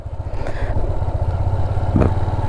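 Motorcycle riding on a village road, a steady close engine drone with a rhythmic low pulse and a brief clatter or scrape partway through.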